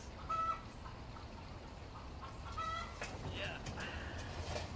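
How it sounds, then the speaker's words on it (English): Backyard hens laying eggs, clucking faintly in the distance in short bursts over a low, steady outdoor background. "my chicken's in the background laying eggs"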